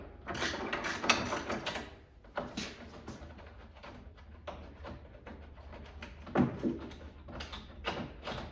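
Hands working loose a nut on a Galaxian arcade cabinet during restoration, with scattered metallic clicks, ratcheting and clunks in irregular bursts, close and moderately loud with no talk.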